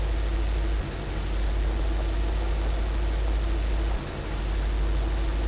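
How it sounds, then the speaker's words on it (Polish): Tractor engine in Farming Simulator 15 hauling a four-furrow Grozet plough during spring ploughing, a steady low droning rumble held throughout with two brief dips in the bass, loud and close, no voices. "Jak widać, ciągnik spokojnie daje sobie z nim radę."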